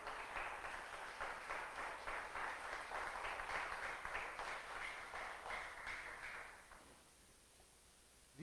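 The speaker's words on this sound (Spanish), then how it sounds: "Dele palmas al Rey." A church congregation claps together in steady, dense applause, faint and somewhat distant, lasting about seven seconds before fading away.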